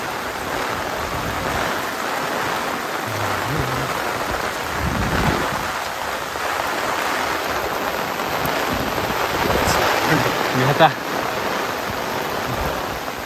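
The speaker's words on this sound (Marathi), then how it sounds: "पाऊस खूप वाढलेला आहे" Heavy monsoon rain pours down steadily throughout near a dam, a dense constant hiss with a few louder splashes and bumps near the end.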